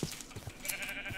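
A Minecraft sheep bleats in a short wavering call, followed by faint scattered game sounds.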